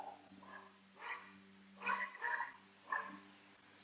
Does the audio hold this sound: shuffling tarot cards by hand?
no